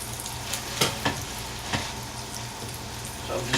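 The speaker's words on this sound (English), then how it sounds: "I'm just going to stir this a little bit here." Onions frying in a pan for a large batch of rice, a steady sizzle with a few soft scraping stirs and clicks, close and fairly quiet, with no voices.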